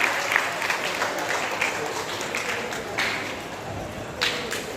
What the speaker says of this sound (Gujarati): જોરદાર તાળીઓથી મહેશભાઈ સાહેબને પણ આપણે સન્માનિત કરીશું.